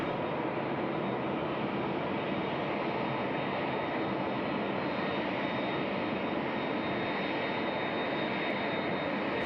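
A Cathay Pacific airliner's jet engines at Sydney Airport, a steady broad roar held at constant level throughout, heard from a distance with no talk.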